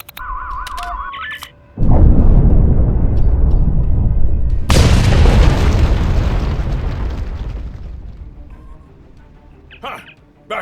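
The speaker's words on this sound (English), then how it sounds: "Fire in the hole!" A loud explosion in the Star Trek Online video game, a sharp burst followed by a long rolling boom and a second blast that fades slowly over several seconds, with brief electronic game tones at the start and end.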